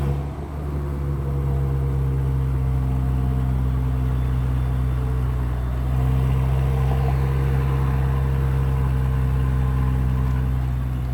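The 2022 Genesis GV70 3.5-liter twin-turbo engine settles into a steady, quiet idle with a low hum and a slight rise in level partway through, heard alone without talking.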